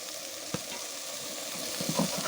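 Chopped onions and spices (turmeric, black pepper, coriander powder, salt) frying in hot oil for Kolkata-style aloo chop filling, a steady soft sizzle with a brief stir clatter and a few spatula scrapes near the end.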